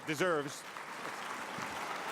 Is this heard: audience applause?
yes